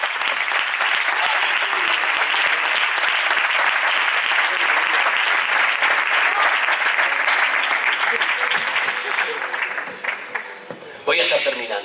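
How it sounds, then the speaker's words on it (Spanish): Church congregation applauding during a sermon, a loud, dense burst of clapping that holds steady for about ten seconds before thinning into scattered claps at the end. "El mejor aplauso que tengas para Él."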